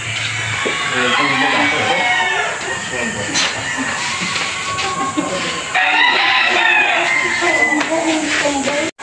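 Gamefowl hens (gray pullets) clucking and a broodcock rooster calling near at hand on a gamefarm, with someone talking over them and a steady hiss in the background.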